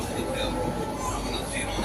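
A metro train rumbles steadily at a station in Kochi, a continuous dense roar of rolling carriages lasting throughout the short stretch with no clear breaks.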